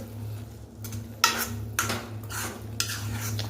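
Semolina for sheera is stirred in a pan over low heat, giving several distinct scraping strokes against the metal over a faint hum.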